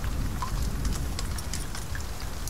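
Steady rain in the survival game The Forest, a dense patter of drops hitting the ground in a continuous wash of hiss with no voices over it.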